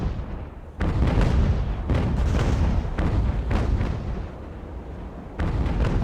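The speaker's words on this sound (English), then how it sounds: "Musket fire from the decks." Volleys of musket fire crackle from sailing-ship decks during an Age of Sail naval battle in Ultimate Admiral: Age of Sail, dense overlapping shots and booms rolling on continuously with sharper bursts near the start and end.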